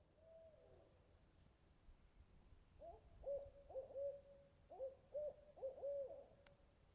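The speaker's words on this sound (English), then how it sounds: "Sound of the hoot owls" Owls hoot at a campsite, several soft repeated hoots in short clustered phrases from a moderate distance, over quiet background ambience.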